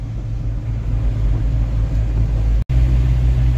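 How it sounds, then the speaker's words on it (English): A 1986 Volkswagen Jetta turbo diesel runs steadily at idle, with a loud, constant low rumble. The sound cuts out for a moment near the end, then picks straight back up. "Nothing like saving a diesel that barely starts in the winter."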